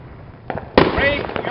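A Roman candle at a Fourth of July backyard fireworks night fires off with a sharp pop followed by a fizzing, crackling burst, close and loud, while people talk nearby.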